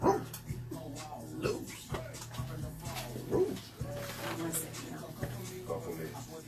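A dog barks in several short, sharp bursts with some whimpering yips, spaced irregularly under people talking nearby.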